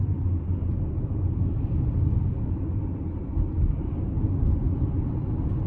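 Cabin noise inside a 2016 Tesla Model X 90D driving down the road: a constant deep rumble of tires and road surface, smooth and unbroken, with no voices.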